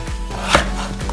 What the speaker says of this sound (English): Ray is chopping up the potatoes so it will cook faster.